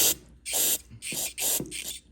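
Carburetor cleaner sprays onto a lawn mower carburetor in four short aerosol bursts, each a close, sharp hiss lasting about a quarter second, separated by brief pauses.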